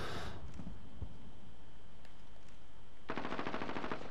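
Distant rapid gunfire in a Call of Duty: Modern Warfare multiplayer match, with a quiet scattered start and then a sustained automatic burst near the end.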